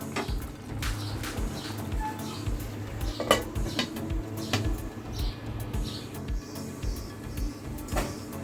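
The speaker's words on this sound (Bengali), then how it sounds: "এবার এটাকে আমরা একটু ঢেকে 2 মিনিটের মতন ফুটিয়ে নেব।" Metal cookware clatters close by as a pot of moong dal with ash gourd is covered with a lid to simmer, with scattered clinks and knocks over a low background hum and no speech.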